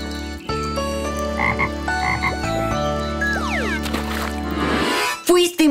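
A frog croaks repeatedly and loudly in an animated children's story, with cartoon sound effects and musical swoops layered around it.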